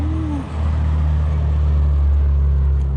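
A car with a big turbo revs at a car and motorcycle meet, its loud, close engine rising briefly with a whistle before settling into a deep steady rumble.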